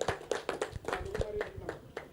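Scattered hand clapping at a cricket association's prize distribution, with uneven individual claps in a loose rhythm, fairly faint, over a low hum and some talk.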